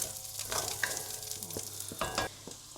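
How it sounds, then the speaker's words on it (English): Red onions sweating in a pot for a one-pot beef bourguignon give a soft, quiet sizzle, broken by stirring scrapes and light utensil knocks against the pot. "Just going to let these onions sweat down a little bit and then we will add some other ingredients."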